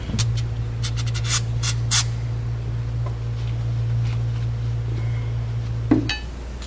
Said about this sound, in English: Hit it with brake cleaner, huh?